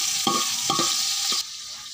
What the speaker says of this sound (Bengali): পেঁয়াজটাকে ভালো করে ভেজে নিব।